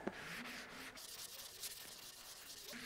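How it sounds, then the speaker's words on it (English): Light hand sanding along the curved radius edge of a black oak guitar body, soft rasping strokes repeating close by under gentle pressure, with no talk. "I want to sand that whole radius, but I don't want to sand through it"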